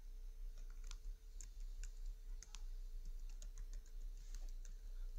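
Computer keyboard typing while writing code for a React to-do list app: scattered, quick keystroke clicks, some in short bursts, fairly quiet over a steady low hum, with no voices.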